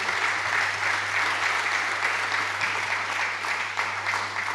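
A church congregation at a thanksgiving service applauds steadily and loudly, a dense continuous clapping with a low hum underneath and no speech over it.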